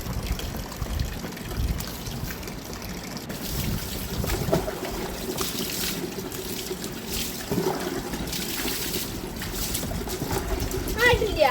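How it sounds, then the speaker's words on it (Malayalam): Water is poured over the head of an American Bully dog during a bath, making an uneven trickling splash close by, with a voice audible nearby. "ഞാൻ ആമിയുടെ തലയിൽ കൂടെ വെള്ളം ഒഴിച്ചു"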